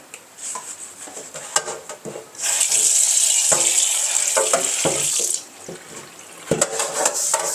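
Tap water runs onto an iron wok being rinsed clean, starting with light clatter and splashing, then a steady loud stream that stops before more scattered rinsing and metal knocks.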